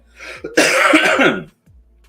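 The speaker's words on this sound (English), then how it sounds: "My cough is kind of coming back" A single harsh, loud cough close to the mic, preceded by a short breath and followed by a faint throat sound.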